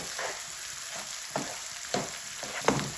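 Potatoes fry in a pan for a bitter gourd (karela) dish with lemon and vinegar added, a steady low sizzle broken by several scraping stirs of a spoon roughly every half second, close by, with no talk.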